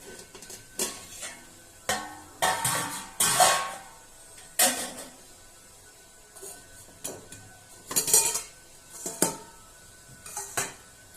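A fork pokes and scrapes at a boiled egg in a metal pot, giving scattered sharp clinks and scrapes in irregular bursts, close and fairly loud, with quiet gaps between.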